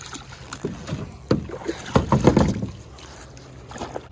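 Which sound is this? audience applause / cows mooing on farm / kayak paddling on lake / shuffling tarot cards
kayak paddling on lake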